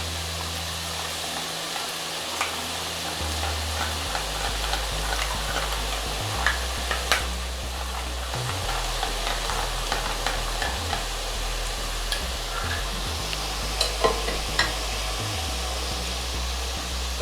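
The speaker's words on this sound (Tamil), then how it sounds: "பூந்தி பொரிச்சு எடுக்கிறதுக்கு நான் பூந்தி கரண்டியை யூஸ் பண்ணுறேன்." Boondi batter drops fry in hot oil for boondi ladoo, giving a steady, close sizzle throughout. A low hum runs underneath, with a few faint taps from a perforated ladle.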